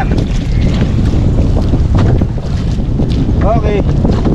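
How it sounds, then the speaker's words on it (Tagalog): Strong sea wind roars across the microphone on a small fishing boat, a loud, constant buffeting rush mixed with water and hull noise, and brief faint sounds of activity aboard. "Malakas ang hangin mga bossing."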